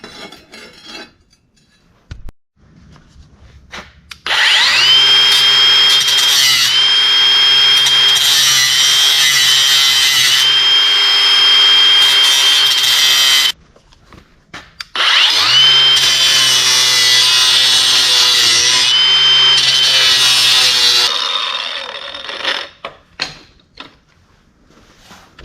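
Power tool cutting through a steel leaf spring for a homemade crossbow, two long loud sustained whining runs with a steady pitched drone, separated by a brief pause, with quieter handling noise before and after.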